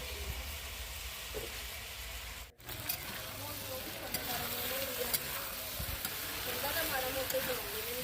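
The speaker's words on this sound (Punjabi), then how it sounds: "ਇਹਨਾਂ ਨੂੰ ਮਿਕਸ ਕਰਕੇ ਆਪਾਂ ਪੱਕਣ ਦੇਵਾਂਗੇ ਤੇ ਵਿੱਚ ਵਿੱਚ ਵੀ ਹਿਲਾਉਂਦੇ ਜ਼ਰੂਰ ਰਵਾਂਗੇ" Diced potatoes cooking in a pan for a halon bhurji, outdoors at a farm amid smoke, a constant close sizzle with occasional scraping from stirring and brief clicks, someone talking over it.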